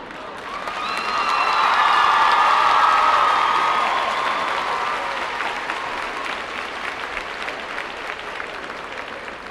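A commencement audience breaks into sustained applause, a broad wash of many hands clapping that swells over the first few seconds and then slowly fades, with a brief whistle or cheer near the start.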